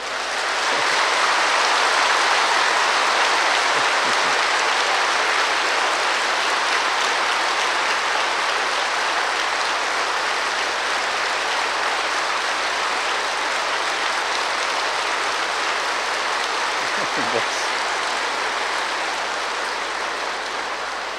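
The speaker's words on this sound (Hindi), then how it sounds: "खूब अच्छी तरह से एक बार ताली बजाओ" A large seated audience at a Brahma Kumaris spiritual gathering claps together in one long, loud, dense round of applause that keeps going for about twenty seconds before slowly thinning out.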